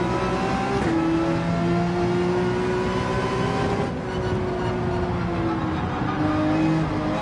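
Race car engine in Gran Turismo 7 revving hard and steady, pitch climbing and dipping as the driver floors it and brakes, loud and close with no talk.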